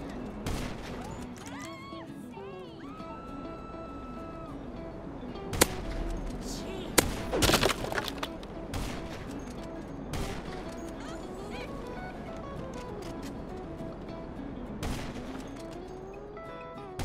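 Scattered gunfire in GTA 5 Online: several sharp shots and a short cluster of bangs over a busy game background of engines and tones, with faint talk mixed in.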